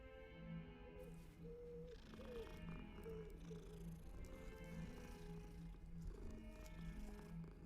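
A cat in a Hogwarts video game purrs softly as it is petted, a quiet, steady, rhythmic rumble that continues for several seconds.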